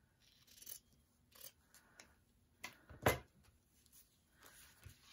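Scissors cut fabric for a ruffle, producing a handful of quiet, close snips and soft rustles spaced irregularly over a few seconds in an otherwise calm room, with no voices.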